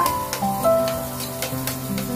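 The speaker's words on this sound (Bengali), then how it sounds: "হাফ চামচ মানে 1 চামচে আমি ঘি দিয়ে দিচ্ছি।" Ghee spooned into hot oil left from frying green chillies sizzles softly for a couple of seconds, with faint scraping and tonal kitchen hum underneath.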